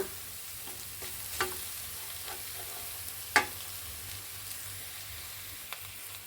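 Rice stirred into frying lemon rice seasoning in a pan, with a low continuous sizzle broken by occasional sharp spoon scrapes and taps, one louder knock near the middle.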